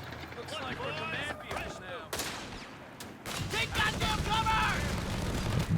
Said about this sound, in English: Machine gun here, getting forced away by the flak